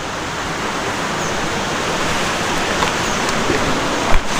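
Shallow river at a rainforest campsite rushing in a dense, steady wash of water noise, close and loud, with a faint knock near the end.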